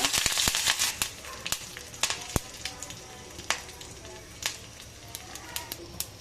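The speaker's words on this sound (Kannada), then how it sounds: "ಕರಿಬೇವು ಹಾಕೋಣ" Curry leaves crackle in hot oil with popped mustard seeds for a ridge gourd chutney tempering, giving a soft sizzle with scattered sharp pops that thin out over a few seconds.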